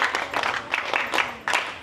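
Audience clapping in a classroom-style talk on lifestyle disease prevention for teenagers, a short burst of scattered hand claps, moderately loud and fairly close, with no speech over it.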